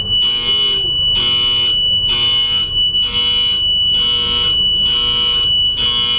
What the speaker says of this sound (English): So this is going to trigger alarm 1 and alarm